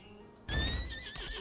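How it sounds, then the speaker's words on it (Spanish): A horse in the video game Lost Ark lets out a sudden high whinny with a wavering pitch, joined by a soft clip-clop of hooves, fairly faint and with no talk. "Móntate en el caballo."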